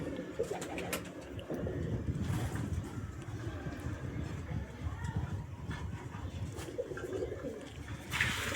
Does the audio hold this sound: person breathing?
no